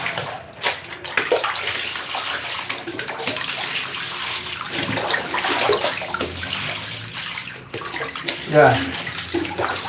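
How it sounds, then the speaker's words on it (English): Socks being washed by hand in water, with steady sloshing and splashing throughout, under intermittent talk. "I think I work too much on these socks. They need to be washed."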